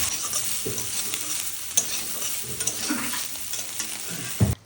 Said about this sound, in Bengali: আর ওই তেলেই সোয়াবিনগুলোও এবার ভেজে নেব লবণ হলুদ দিয়ে।